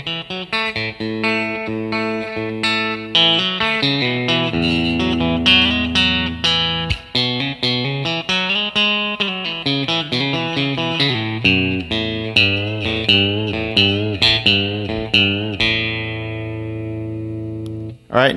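A country guitar solo, played on a B-bender guitar, runs bright and twangy with bent notes and quick melodic runs over sustained low tones, loud and continuous.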